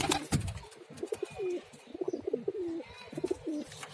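Young pigeons cooing up close, repeated soft throaty coos in a loose rhythm over about four seconds, with a sharp knock near the start.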